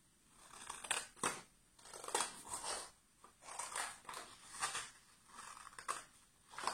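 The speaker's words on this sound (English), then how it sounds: "we put our 2 pieces of card together and we cut around the shape" Scissors cutting around a shape through two stacked pieces of card, a series of close, crisp snips and crunching cuts in an irregular rhythm, fairly quiet, with no talking.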